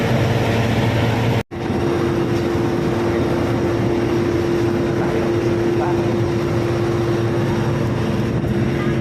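Steady engine drone and broadband rush inside an airplane cabin on a flight to Davao, loud and constant with a steady tone running through it, broken by a brief dropout near the start; speech is likely present.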